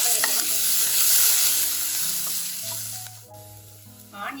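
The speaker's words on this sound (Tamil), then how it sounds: "ஆனியன் சேர்த்து வதங்கட்டும்." Onions sauté in hot oil with popped mustard seeds, a steady loud sizzle with occasional stirring scrapes, all alone for the whole stretch.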